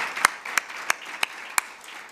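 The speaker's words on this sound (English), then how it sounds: "So can we just give her a big round of applause?" A few isolated claps ring out at a 2015 IMLS Focus National Digital Platform meeting, about five sharp, evenly spaced hand claps rather than a full ovation, fairly close and alone.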